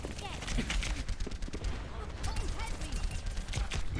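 Rapid rifle shots from the Overwatch hero Ashe ring out in a dense, busy firefight, with many cracks and clatters overlapping at a steady loud level throughout.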